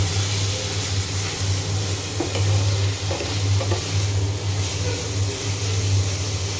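Red amaranth greens (lal shak) stir-frying in a pan give a steady, fairly loud sizzle, with a low hum underneath and a few soft scraping stirs along the way.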